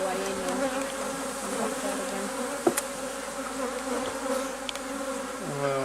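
Honey bees buzzing around an open hive during an inspection before harvest, a dense close hum of many wings with individual bees droning past and a faint click.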